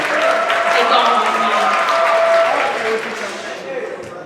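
An audience at a stage hypnosis show applauds in a sustained burst that fades toward the end, while a person keeps talking over it.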